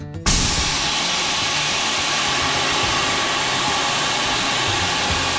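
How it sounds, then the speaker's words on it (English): Air hisses steadily out of a Jeep tire being aired down, a loud continuous close rush that starts abruptly after a brief pause and holds unbroken. "we're gonna air down for 10 seconds and see what it gets down to"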